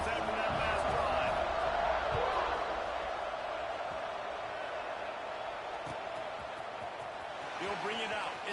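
A football stadium crowd at an Oregon versus Colorado game roars in a broad, steady wash of cheering that swells slightly at the start and end, with an announcer talking over it throughout.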